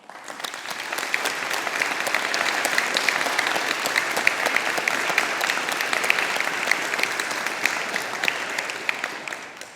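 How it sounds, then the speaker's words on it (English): University graduation audience for a humanities and social sciences faculty gives a steady round of applause, dense even clapping that swells quickly, holds loud for several seconds, then tapers off. "Let us take an opportunity to show our appreciation and gratitude to all of those who have supported you with a round of applause."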